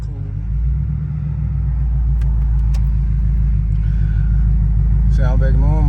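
A Ford Crown Victoria engine idles after an exhaust leak repair, a steady low rumble with a constant drone close by; someone talks over it near the end.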